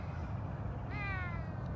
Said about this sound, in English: Yeah, for a Savannah cat,